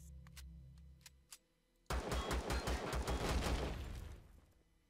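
Rapid gunfire in the space survival game Empyrion - Galactic Survival bursts out suddenly after a few quiet clicks, a dense string of loud shots lasting a couple of seconds before fading.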